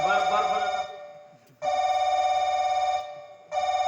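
A telephone rings in a Konkani stage play, a steady electronic bell tone sounding in bursts separated by short pauses, with the second burst long and sustained and another starting at the end. Voices are heard briefly at the start.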